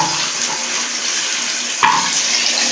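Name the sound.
water poured into pot for aloo pulao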